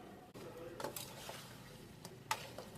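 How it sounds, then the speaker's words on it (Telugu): A spoon stirs spicy chicken leg curry in a pan, with a few faint scrapes and clinks against the metal over a quiet background. "ఒకసారి మీరు బాగా కలుపుకోవాలండి లేదా అడుగంటేస్తుంది"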